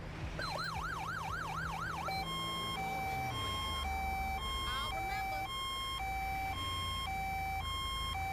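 An ambulance siren in GTA 5 with the LSPDFR mod, loud and steady, first warbling rapidly and then switching to a slower two-tone wail, with a vehicle engine rumbling underneath.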